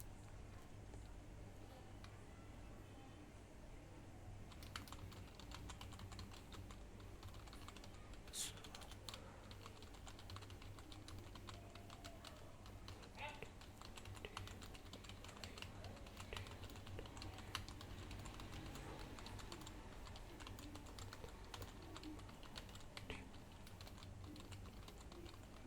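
Typing on a computer keyboard during a typing speed test for an SSC skill exam: a steady, continuous run of soft key clicks over about 26 seconds, fairly quiet and close, with a low hum beneath and no talking.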